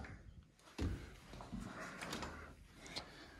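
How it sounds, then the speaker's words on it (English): A door in a house being pushed shut, a single solid thump near the start followed by softer rattles and shuffling sounds indoors. "door is closed"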